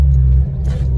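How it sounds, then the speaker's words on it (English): A Citroen C1 engine with a remap, under load with the accelerator pressed, gives a steady, loud, throaty low rumble that stays close and continuous with no voices. "when you put your foot down and the engine under load, it does sound more throaty"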